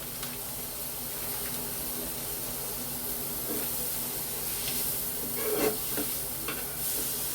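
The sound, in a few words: dry roasting spices and poppy seeds in a pan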